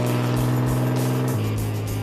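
A loud car engine held on the throttle, a steady close-up drone with a strong low hum that shifts pitch slightly downward partway through, alone without talk.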